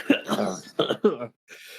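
A single close, harsh cough burst followed by a couple of shorter throaty coughs, then a brief pause and a faint breath.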